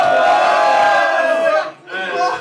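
A crowd at a live French rap radio show and freestyle session cheers and shouts loudly. The roar is sustained, dips briefly, then surges back.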